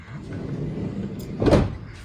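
A car door in a garage swings and thuds shut once, a short knock partway through after a stretch of low shuffling handling noise; the vehicle's door has a bent, welded lower hinge and does not close fully.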